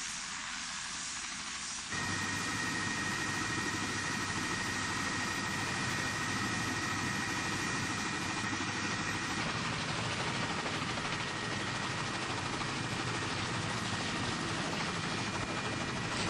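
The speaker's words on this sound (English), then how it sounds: "take a helicopter ride over Victoria Falls and the surrounding area" Steady, loud rotor and engine drone of a helicopter flying over Victoria Falls, Zimbabwe, continuous throughout with a constant whirring hum and no talking.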